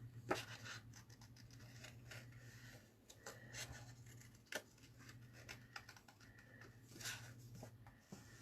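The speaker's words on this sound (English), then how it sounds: "I'm just going to grab my scissors and I'm just going to cut around this design" Scissors snipping around a paper craft design for a floating spine mini album, a run of quiet close cuts and rustles over a steady low hum.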